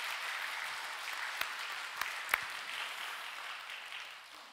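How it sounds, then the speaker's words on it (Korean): Church congregation clapping for a choir member back from Germany, a steady dense patter of many hands held for several seconds and fading slightly at the end, with no talk. "늘 행복하고 복된 인생 살라고 박수 한번 해주시길 바랍니다."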